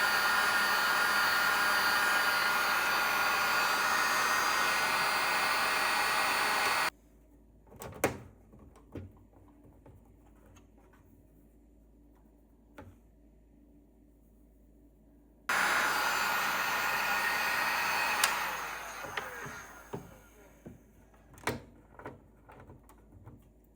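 A heat gun blows hot air onto stickers on a Sony STR-DE685 receiver, a loud steady broadband whoosh that cuts off, leaves a quiet stretch of small clicks and handling knocks, then starts again and trails off.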